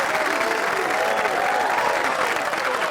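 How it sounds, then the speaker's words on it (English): A crowd applauds and cheers continuously, a dense, steady wash of clapping with mixed voices throughout, fairly loud and unbroken. "The crowd goes wild."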